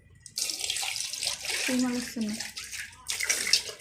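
Water is poured into a steel bowl during washing in bursts of splashing and running flow, close and fairly soft, with brief gaps and a couple of bright ringing tones from the vessel.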